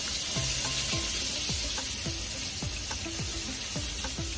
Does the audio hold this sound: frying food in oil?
yes